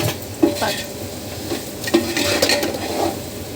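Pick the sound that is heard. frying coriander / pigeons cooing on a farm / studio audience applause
frying coriander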